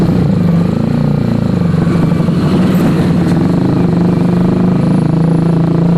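A Yamaha R15 V3 motorcycle fitted with an aftermarket exhaust runs steadily at close range, giving a continuous low, fairly mellow engine drone with no sharp revs throughout.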